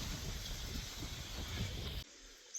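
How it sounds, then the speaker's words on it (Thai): Wind gusts outdoors, buffeting the microphone as a loud, steady rushing roar with low rumble for about two seconds before abruptly dropping to a quieter hiss. "มาแล้วลมมาแล้ว"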